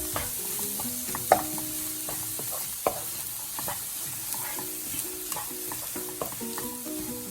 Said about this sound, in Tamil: வெட்டி வச்ச கோவா, காபேஜ் அதையும் சேர்க்கிறேன். சேர்த்து இதை கொஞ்ச நேரம் வதங்க விடணும்.